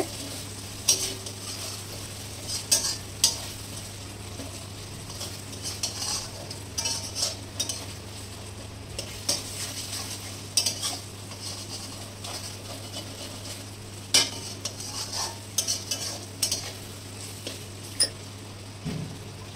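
Spiced masala for aloo chana frying in oil as it is stirred: a quiet, continuous sizzle broken by repeated spatula scrapes and taps against the pan, heard close with a low steady hum underneath and no talking.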